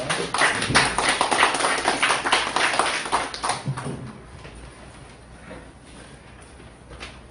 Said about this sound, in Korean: 우리 나오실 때 박수로 환영해 주시기 바랍니다.